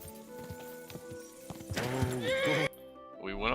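A horse in Kingdom Come Deliverance 2 gives a loud, clear whinny amid galloping hoofbeats, followed by a brief break and then more hoof and body sounds at close range.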